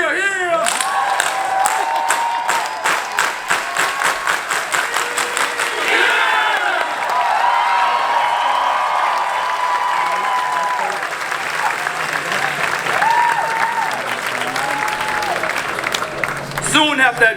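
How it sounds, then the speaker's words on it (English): A crowd at a March For Our Lives rally in Parkland applauds and cheers loudly and steadily, with shouts and whoops rising above dense clapping throughout. "Clap it up if you're still here."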